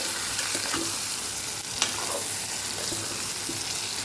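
Brinjal and potato pieces with masala sautéing in hot oil for a Kathiyavadi stuffed vegetable dish, a steady even sizzle throughout with a few faint stirring clinks, no voices.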